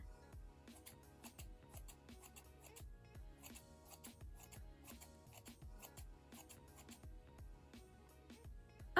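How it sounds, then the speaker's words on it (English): Rapid, crisp snips of scissors trimming a fringe of hair close to the ear, repeated in quick irregular clusters, fairly faint and without talking. "Oh, maybe I should cut upwards."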